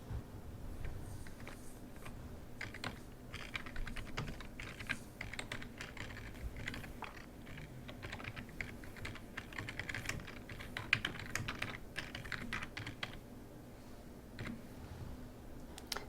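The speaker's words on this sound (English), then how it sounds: "Now I want to type in the title for my chart" Steady typing on a computer keyboard while a chart title is entered in Adobe Acrobat 9 Professional, a continuous run of quick, light key clicks with no talking.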